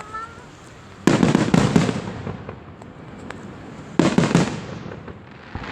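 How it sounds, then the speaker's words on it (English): Independence Day fireworks over Downingtown burst in two loud booms, each trailing off into crackling, heard outdoors and fairly close. "There's only 2 fireworks. Why did it make 3 sounds?"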